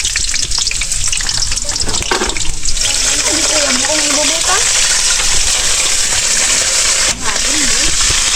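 Water pours into a hot, oily pan where chicken is being sautéed, setting off a loud, steady sizzle and frying hiss with stirring, and a voice speaks briefly over it.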